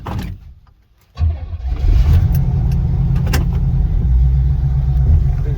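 A Pontiac Ventura that had not been started in three years runs with the choke on. After a brief quiet moment the cold engine catches and settles into a loud, steady rumbling idle close to the listener.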